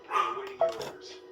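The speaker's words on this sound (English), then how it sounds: "we were told she doesn't bark, but she's found her voice" A small female dog barks in short sharp yaps indoors during a sewing and embroidery session, the barks brief and mid-loud over a steady machine-like hum and background voices.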